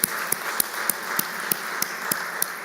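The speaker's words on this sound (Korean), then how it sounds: "우리 박수 한번 하겠습니다." Applause from a church congregation at an early-morning Holy Week service, a modest crowd clapping steadily in a room with a faint even rhythm.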